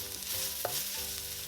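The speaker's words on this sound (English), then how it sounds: "Stir fry for another minute." Pork belly, shiitake mushrooms and the white parts of scallions stir-fry in a hot wok, a close, steady sizzle broken by a quick spatula scrape.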